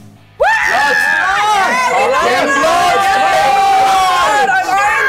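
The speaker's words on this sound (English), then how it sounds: "raked seating, filled with screaming, cheering, audience desperate for blood" A wrestling arena crowd on raked seating screams and cheers, bursting in loudly and staying dense and sustained, with overlapping shrieks and whoops close up.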